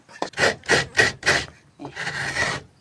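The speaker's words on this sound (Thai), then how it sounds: "ขูดมะพร้าว" A coconut is grated by hand with repeated rough rasping strokes. Four quick scrapes come first, then one longer drawn-out scrape, close and fairly loud, with no talking.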